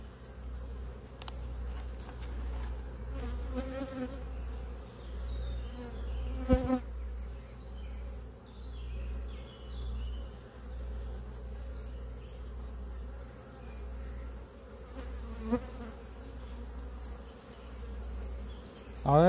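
Honeybees buzz steadily around an Apidéa mini nucleus hive outdoors, a continuous close insect drone with individual bees passing near now and then, calm and unbroken.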